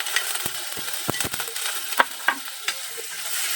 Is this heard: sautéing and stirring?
yes